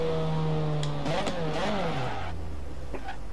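A yellow car in Forza Horizon 4 speeds at full throttle, its engine roaring steadily and loudly. The pitch climbs and then drops through a gear change, with no talk.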